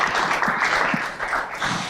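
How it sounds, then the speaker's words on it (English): An audience at a tech conference fireside chat applauds, with steady clapping filling the room for about two seconds. "Let's give a round of applause to our"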